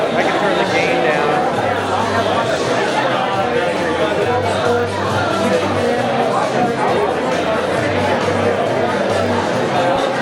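Loud, continuous hubbub of a crowd gathered for a sports announcement, many overlapping voices forming a constant babble throughout.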